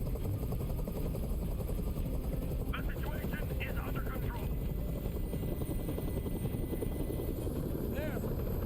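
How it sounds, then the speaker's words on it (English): A helicopter hovers overhead in Detroit: Become Human, its steady thudding rotor drone loud and constant throughout while a voice speaks briefly over it. "Tell that helicopter to get out of here."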